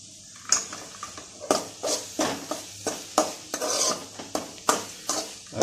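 A spoon stirs papaya thoran with coconut paste in a pan, scraping in a steady, rhythmic stroke about three times a second over a faint sizzle. The sound is close and loud, with no talking.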